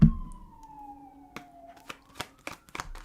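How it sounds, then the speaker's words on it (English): A police siren wails at a distance, its tone sliding slowly downward, while scattered clicks and rustles sound close by. "You hear them sirens?"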